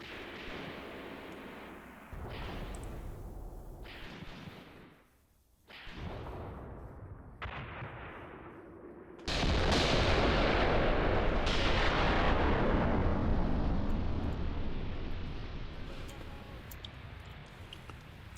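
Artillery fires in the Graviteam Tactics war game, with several heavy booms at irregular intervals and a big blast that rolls into a long rumbling decay, faint talk beneath.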